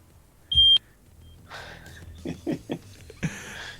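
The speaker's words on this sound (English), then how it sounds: "That would be the fire alarm going off." A fire alarm sounds one sharp, loud electronic beep, followed by quieter breathing and muffled voices.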